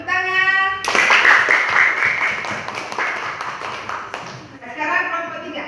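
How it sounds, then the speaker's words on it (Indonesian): A group of students clapping hands together in a classroom, a dense burst of claps lasting several seconds between stretches of voice, close and fairly loud. "Ya, tepuk tangan."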